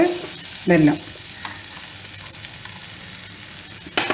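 Karamani sundal stirred in a pan gives a soft, even sizzle, with a loud scrape of the spoon early on and another near the end.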